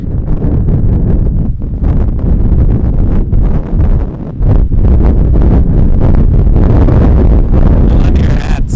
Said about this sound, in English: You know, whole lot of wind.